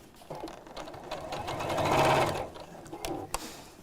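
Sewing machine stitching the seam of a half-yard fabric Easter basket, a steady whirring run that swells loudest mid-clip and then eases, with brief talk around it.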